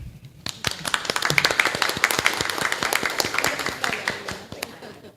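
Audience applause for the jury president at a national public procurement arbitration essay contest ceremony, a dense crowd clapping steadily for about five seconds with sharp individual claps standing out, no talk over it.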